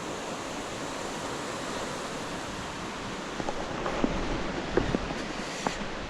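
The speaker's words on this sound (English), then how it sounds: "Waterfall." A steady rushing roar of Love Waterfall in Hoang Lien National Park, Sapa, Vietnam fills the scene, broad and constant, with a few faint clicks and knocks toward the end.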